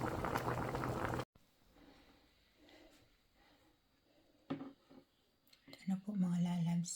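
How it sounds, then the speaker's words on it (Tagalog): Braised duck sauce simmers and reduces in a pot, a soft, low bubbling heard faintly in quiet stretches between louder handling noises, with a voice speaking near the start. "Laputin na lang po natin ang sauce mga lalabs."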